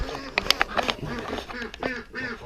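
Several ducks quack in quick bursts close by, with a few sharper calls mixed in among the chatter.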